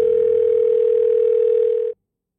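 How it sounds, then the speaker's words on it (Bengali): A steady telephone dial tone hums continuously for about two seconds as a call is placed, then cuts off abruptly, loud and close with nothing else over it. "একটা ফোন করেন উনি"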